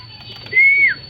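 A racing pigeon arriving at the loft gives a single clear call of about half a second, sustained and fairly close, over a quiet background.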